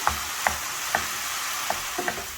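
A spoon scrapes through boiled, mashed potato and cooked minced chicken for samosa roll filling, with about six distinct scraping strokes at an uneven rhythm over a faint steady hiss from the pan.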